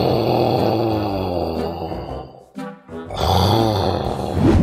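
A man snores loudly and heavily in bed, with deep rasping rhythmic breaths and a brief quieter pause partway through before the snoring resumes.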